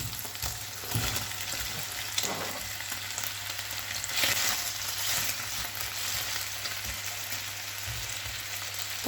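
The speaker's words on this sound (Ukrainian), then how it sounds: "Тепер у мене тут на сковорідці жариться кусок індичатини." A piece of turkey frying in a pan, a steady close sizzle with occasional soft clinks and stirring sounds over a low constant hum.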